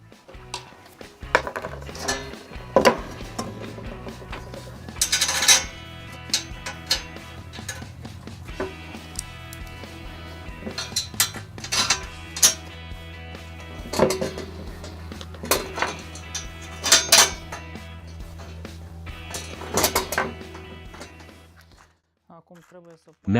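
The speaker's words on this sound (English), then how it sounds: "Now we'll mount the screws." Screws are fitted by hand onto a homemade lawn leveling rake, with scattered metallic clinks, taps and rattles of hardware and washers, some brisk flurries between quieter pauses.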